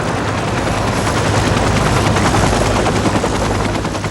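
Rescue helicopter flying over a mountain glacier, a loud, steady rotor roar with rapid blade chop, close and continuous throughout with no voices.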